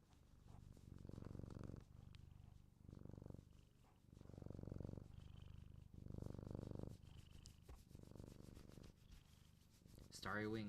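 Close, low rhythmic purring from Munji, a pet cat, swells and fades in about six even breath cycles roughly a second apart, with faint rustling from handling between them.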